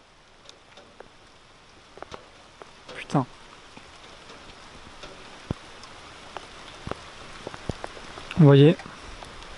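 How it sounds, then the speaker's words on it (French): Heavy rain during an 80–90 km/h gale in Bordeaux, a steady dense patter of drops close by, with a few brief louder gusts or knocks and someone speaking briefly over it. "En tout cas, là, il pleut bien."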